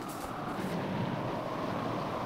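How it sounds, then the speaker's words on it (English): Loud, steady wind buffeting the microphone on a mountaintop in China, a dense roaring rush with low rumbling gusts and no other sounds. "I'm sorry about the noise, it's pretty windy up here."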